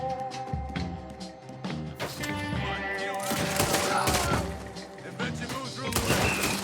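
Rapid volleys of gunfire from a Western shootout in Red Dead Redemption 2, loud and dense with booming shots layered over game music and sounds, voices talking intermittently.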